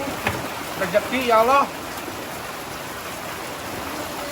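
Rain falls in a continuous wash while someone speaks briefly over it near the start; the rain carries on alone after he stops.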